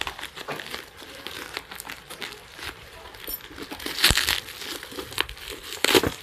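Thick plastic wrapping on a Casio watch package crinkles and crackles in uneven bursts up close, with louder crunches near the end and occasional faint handling between them.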